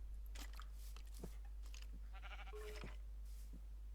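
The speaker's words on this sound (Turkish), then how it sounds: "Aha koyun sesi duydum." A few short, faint sheep bleats with a synthetic, game-like quality from Minecraft, scattered among soft crunching clicks over a low steady hum.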